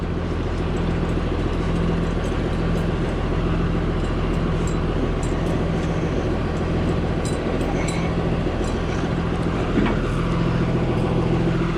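A yard dog truck with a 5.9 Cummins 12-valve engine drives while moving 53-foot trailers, giving a steady, loud diesel drone with a low rumble and rattling clatter throughout, no talking.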